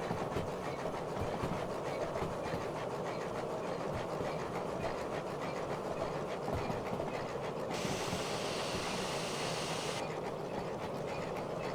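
Two steam locomotives work together at the head of a train with a caboose, giving a steady rumbling chuff and rail clatter, with a loud hiss of escaping steam from about 7.7 to 10 seconds.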